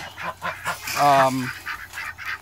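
Male Khaki Campbell and Pekin ducks calling in an enclosed pen, a series of soft nasal quacks with one louder, longer honking call in the middle, close by.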